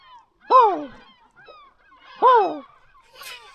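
Large birds near a small Adriatic islet give two loud, honking calls a couple of seconds apart, close and clear with faint bird cries between them.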